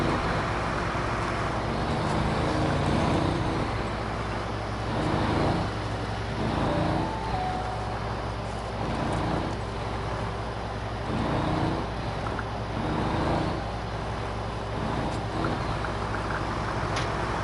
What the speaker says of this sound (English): That noise the truck's making will be every time I tap on the gas